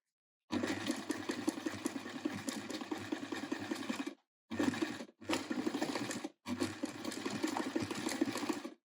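A sewing machine stitches the body of a Waldorf doll in long steady runs broken by two brief stops, a quiet, even motor hum with no talking over it.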